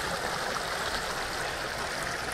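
A fast-flowing river current rushes steadily close by, a dense, unbroken broadband wash of water with no voices over it.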